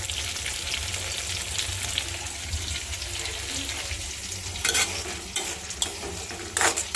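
Steady sizzling of fish frying in a pan, with a few louder bursts of crackle and splatter near the end.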